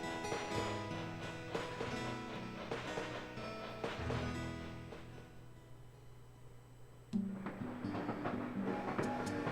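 Rumbling train sounds in Animal Crossing with rhythmic clacking and mechanical clanks, moderately quiet, with a sharper metallic hit near the end.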